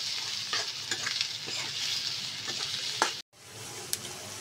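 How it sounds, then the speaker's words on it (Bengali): Chopped green chili and onion fry in a pan, a bright steady sizzle with stirring scrapes, a brief dropout near the end, then the hiss resumes with a sharp clink. "দিয়ে দিলাম কাঁচামরিচ কুচি আর পেঁয়াজ কুচি। আমি এটাকে একটু নরম করে ভেজে নেব"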